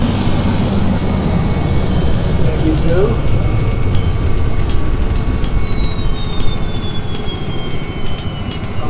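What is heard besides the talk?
Agusta-Bell AB412 helicopter engine running during shutdown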